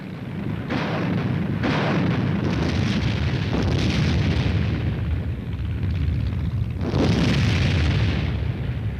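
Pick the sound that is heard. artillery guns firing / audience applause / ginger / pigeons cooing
artillery guns firing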